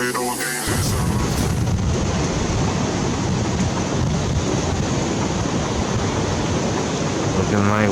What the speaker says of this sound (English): Looking like waves coming out of the south.